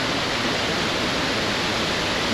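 Water pouring steadily over the top of a canal lock gate that keeps filling because of a stuck paddle above, a loud, continuous broadband rush like a waterfall with no break and no voices.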